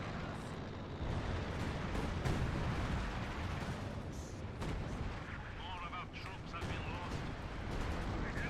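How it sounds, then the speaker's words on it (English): Artillery shells land and burst in Company of Heroes 2, a 4v4 match on the Hill 400 map: a dense, steady roar of booming impacts and gunfire rolls on throughout, with a voice talking over it. "Artillery, though, hitting mid."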